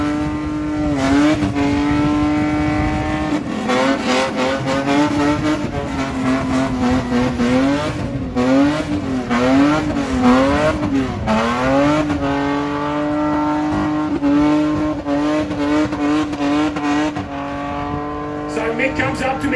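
A V8 burnout car at a Motorfest burnout finals revs hard in long rising and falling bursts with steady tyre squeal, loud and continuous, with faint voices underneath.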